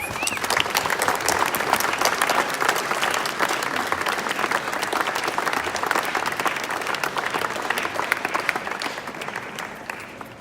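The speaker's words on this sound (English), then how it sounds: "Please give them a round of applause" Diners at a civic dinner applauding, a long, dense, sustained round of clapping that holds steady and loud throughout, many hands close and far blending into one continuous roar, no speech over it.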